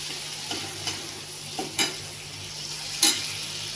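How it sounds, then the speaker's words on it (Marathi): Tomatoes fry in a pan for a spicy okra dish with chilli and garlic, a soft continuous sizzle broken by several light scraping stirs of a spoon against the pan, close and without talk. "टॅमॅटो टाकल्यावरही चांगलं असं परतून घ्यायचं"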